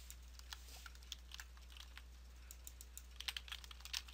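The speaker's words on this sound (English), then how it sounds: "now I'm just typing squares" Typing on a computer keyboard during a Tibia hunting game, scattered soft key clicks in irregular bursts that grow busier toward the end, quiet and close over steady background hum.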